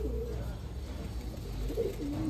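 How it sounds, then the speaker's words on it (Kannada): A Makshi breed pigeon coos in low, rounded phrases, repeating softly and steadily over a faint background hum. "ಇದೊಂದು ಮಕ್ಷಿ ಪಟ್ಟ."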